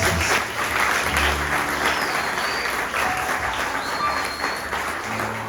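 A church congregation applauds for Jesus during an Easter service, steady loud clapping from a large crowd filling the room without a break.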